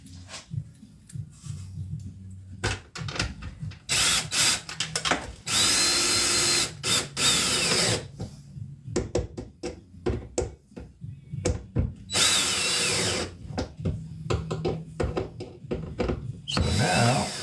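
A power drill drives bits while a Bigwheel is put together in an old garage. It whirs in repeated loud bursts, some short and some sustained, broken by clunks and handling noise between runs.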